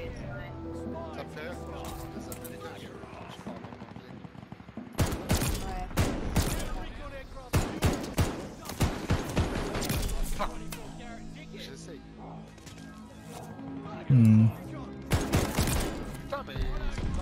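Rapid light machine gun bursts in a first-person shooter video game, loud and repeated in clustered volleys with gaps between them, with game music and effects underneath.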